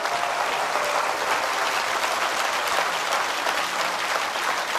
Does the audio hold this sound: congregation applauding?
yes